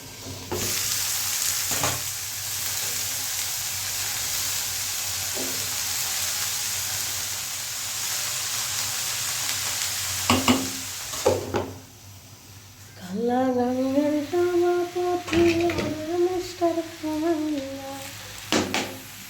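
Potatoes sizzle steadily in a hot pan with occasional clinks of stirring, then a voice speaks over the continuing fry.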